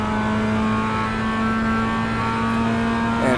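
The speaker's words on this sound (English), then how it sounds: "you guys can kind of hear the rhythm of how you shift the car" A manual-transmission car engine hums at a steady pitch, close and loud, then revs up sharply at the very end while shifting gears.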